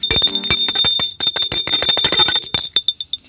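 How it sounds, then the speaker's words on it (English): In the video game Unexpected Tales: Chapter 2, a bell rings rapidly and repeatedly, bright and close, then slows into a few separate fading strikes at the end. "She rings the bell"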